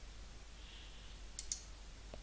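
Two quick, faint computer mouse clicks are heard close together in a quiet room while someone clicks the search magnifier icon in KursAdmin course administration software.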